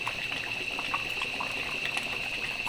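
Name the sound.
hot water poured into pot of chicken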